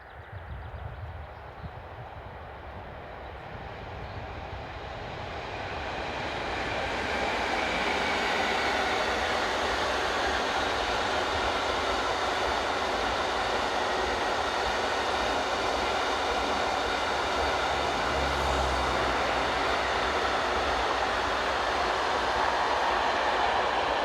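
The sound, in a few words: Class 186 electric locomotive hauling steel empty wagons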